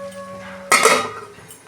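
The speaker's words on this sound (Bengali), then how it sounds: "দেখুন বন্ধুরা ঢাকনা খুলছি।" A pot lid is lifted off a pot of Malabar spinach cooked with fish head. After a quiet low hum comes one sharp metallic clink and a short rush of released noise.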